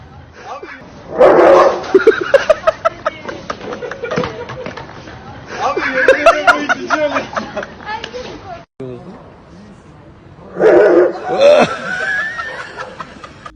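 A dog barks in repeated bursts close by and low to the ground, with laughter and chuckling from people mixed in and voices talking between the barks.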